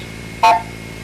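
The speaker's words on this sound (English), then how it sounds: "The digit 1 is composed of a 700 Hz and a 900 Hz tone." Single short Blue Box multi-frequency tone for digit 1, pairing 700 and 900 Hz, a clean beep lasting about a fifth of a second in the middle of a faint hum.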